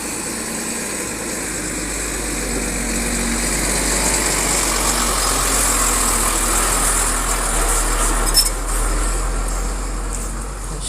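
Trucks rumble past on a dusty mountain road, a steady engine drone holding for the whole stretch and swelling slightly as the vehicles pass nearby, with no voices over it.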